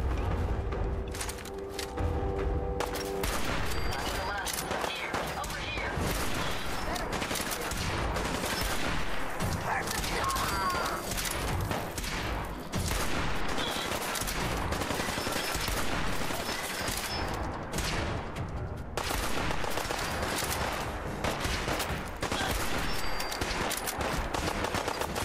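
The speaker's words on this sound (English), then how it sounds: "Who's shooting me now?" Gunfire in the video game Fallout 4: dense, continuous volleys of shots and rapid bursts with heavy booming underneath, loud throughout the clip, with a voice heard briefly.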